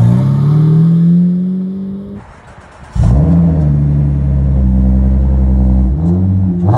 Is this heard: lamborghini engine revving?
yes